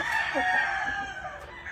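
A black rooster at a chicken farm gives a single near, drawn-out crow over faint background noise.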